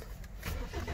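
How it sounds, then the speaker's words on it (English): A 2014 BMW X3 xDrive28i starts from cold, its engine catching partway through with a brief rise in revs and then settling into a low, smooth run. "So I'll let you hear the engine run from a cold start."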